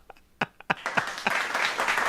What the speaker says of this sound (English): Clap it up for Lau.